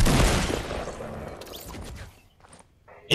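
Gunfire in the Fortnite Battle Royale video game: a dense burst of shots at the start that thins into scattered, quieter pops, with a sharper report at the very end.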